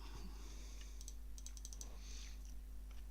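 Computer keyboard clicking during a Path of Exile session, with scattered light taps and short bursts of keystrokes that sound close and fairly quiet, heard alone without talk.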